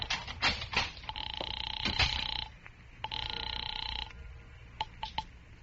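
An old-fashioned telephone in a vintage radio drama rings with two long, bright bell bursts separated by a pause, set against faint background noise and a few short low sounds.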